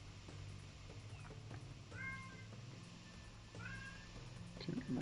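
A pet cat meows loudly a few times in a room, its drawn-out yowls rising around the two- and three-and-a-half-second marks over a steady background hum.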